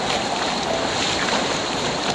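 Stream water rushes over rocks toward a waterfall at Manoori near Kasaragod, giving a continuous broadband wash with wind buffeting the microphone, close and steady with no voices.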